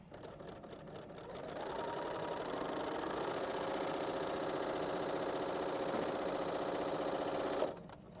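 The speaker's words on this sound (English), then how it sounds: "I'm gonna take this to my serger and I'm gonna do a rolled hem all the way around the edge" A Bernina serger runs a rolled hem around the edge of a fabric bandana, whirring in one steady, close, continuous burst for several seconds before stopping abruptly.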